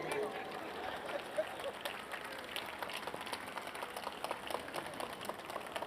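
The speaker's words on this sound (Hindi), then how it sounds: "6 लोगों ने ताली बजाई है" Sparse, scattered clapping from a small audience at a Hindi poetry recital, quiet and uneven, with individual claps tapping irregularly over faint room murmur.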